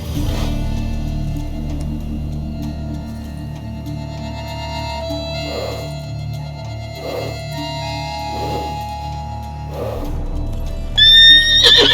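A horse in The Witcher 3 snorts and whinnies over a steady low ambient drone, with several soft breathy bursts spaced through the middle and a brighter sound at the end.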